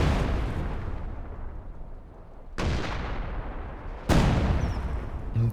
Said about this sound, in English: you come in with the 105, start barraging it